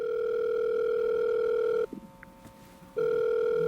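A steady telephone dial tone sounds loudly as a call is connected, breaking off briefly for about a second with a faint click before the same continuous tone resumes.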